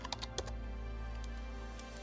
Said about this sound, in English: In the search field, I'm going to type in Buddy to filter for my server.